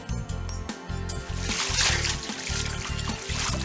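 Bath water splashes and trickles in a continuous wash of sloshing over a steady, rhythmic backing music track.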